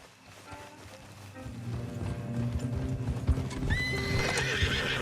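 Rhythmic clip-clop of galloping horses building in loudness, with whinnies and a jingle of tack, in a Red Dead Redemption 2 Online game scene.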